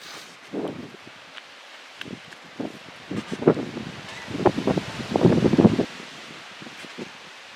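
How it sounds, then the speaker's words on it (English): Strong wind buffeting the microphone in irregular gusts, with rustling bursts that swell louder toward the middle before dropping away. "Still very windy."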